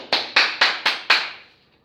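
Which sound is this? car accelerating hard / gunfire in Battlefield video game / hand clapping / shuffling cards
hand clapping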